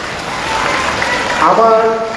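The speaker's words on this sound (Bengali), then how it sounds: "দুলাল ভাইয়ের জন্য কিছু করতালি চাই।" An audience at a tree-planting event breaks into a dense wash of applause that swells and holds, and a voice starts speaking over the clapping near the end.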